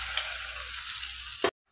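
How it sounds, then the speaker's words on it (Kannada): Tempering for a Mangalore-style marwai and cucumber gravy: curry leaves and garlic hit hot oil with a steady, bright, close sizzle that runs continuously, then cuts off abruptly near the end. "ಈಗ ಮದುವೆ ಗ್ರೇವಿಗೆ ಒಗ್ಗರಣೆ ಹಾಕಿದೆ"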